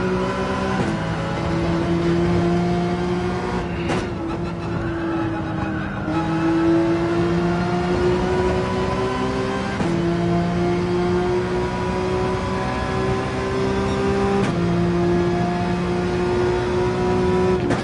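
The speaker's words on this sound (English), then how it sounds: "Let's rev out 3rd here." Car engine in Gran Turismo 7 racing around the Maggiore circuit, a steady loud high-pitched drone climbing through the revs in a gear, with brief dips at shifts and no talk.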